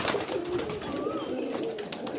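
Black-eyed Giribaz pigeons at a home loft coo steadily and close, a low rolling murmur running for about two seconds with a few brighter rising notes and no voices.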